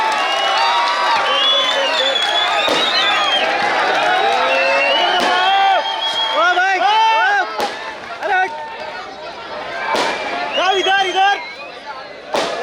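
A large crowd at a political rally in Aurangabad cheers and shouts continuously, with loud whistles and bursts of applause, a dense roaring wall of voices throughout.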